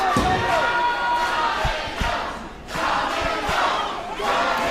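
A crowd at a live wrestling event in Miami cheers and roars loudly and continuously, rising in waves with a few thuds from the ring underneath.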